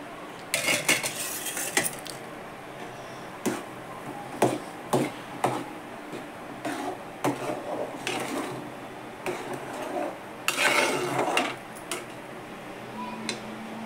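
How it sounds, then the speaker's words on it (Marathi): Sugar mixture cooking in a pot is stirred with a utensil, scraping and clinking against the metal in irregular bursts, close and moderately loud, with no talk. "हलवत राहायचं"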